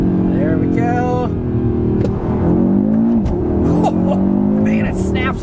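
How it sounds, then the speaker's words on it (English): A 2022 Audi RS3's engine blips and climbs in pitch through manual downshifts, with loud rising and falling revs heard from inside the car; a voice also speaks over it. "I'm gonna go ahead and try out some manual shifts here though. See if it'll let me go down into first."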